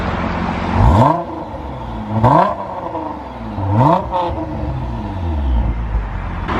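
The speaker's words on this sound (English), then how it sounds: "So I'll give it a few revs." A Nissan GT-R R35 with an Armytrix valved exhaust revs up sharply three times in quick bursts, each rising roar dropping back to a rumbling idle, close and loud.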